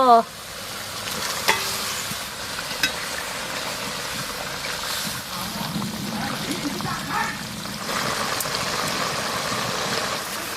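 Eggs and water go into a pan of frying egg curry with well-cooked spices, stirred steadily, with a continuous sizzle and scraping under some background noise. The cooking is outdoors, done by an elderly Santali couple.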